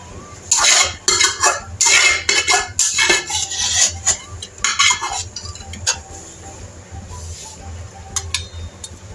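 A spoon scrapes and clinks against a karahi wok while pressure-cooked chicken is stirred, giving loud irregular metallic knocks in the first half before fading to a quieter low hum.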